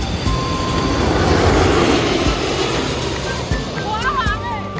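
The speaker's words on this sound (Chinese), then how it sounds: "好像有声音，好像飞机来了。" A low-flying China Airlines airliner roars overhead near a temple in Xiamen, a loud broad rumble that swells and holds throughout, with people talking underneath.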